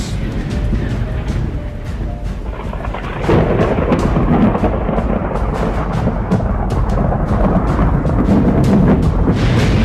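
Heavy rolling thunder rumbles through a steady downpour of rain, loud and continuous, with a deeper surge of thunder partway through.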